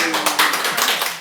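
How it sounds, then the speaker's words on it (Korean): An audience at a light-hearted Catholic homily claps in a short burst of applause, dense and fairly close, lasting about a second. "이게 박수 받을 만한 일이야?"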